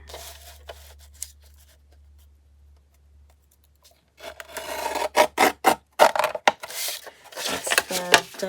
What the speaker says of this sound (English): That's the decal edge trimmer.